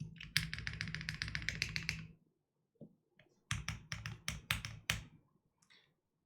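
Bursts of rapid typing on a Vertex Arc60 plateless mechanical keyboard with lubed stabilizers, clacky keystrokes in two runs separated by a short pause and a few isolated taps, close and clear with no talking.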